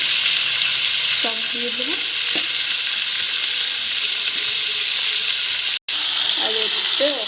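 Onions and tomatoes sizzling loudly in fish curry gravy in a pan, a constant close hiss with a brief cut midway, while someone speaks briefly over it.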